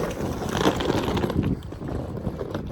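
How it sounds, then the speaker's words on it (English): Steady wind buffeting a microphone outdoors in a car park, a constant low rumbling roar with gusty swells and no clear talk. "It's quite windy."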